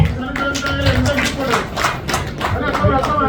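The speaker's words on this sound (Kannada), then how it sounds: "ಮತ್ತೆ ಜೋರಾದ ಚಪ್ಪಾಳೆ." Loud applause from a crowd gathered at a Bigg Boss event, dense steady clapping mixed with cheering and chatter, continuous throughout.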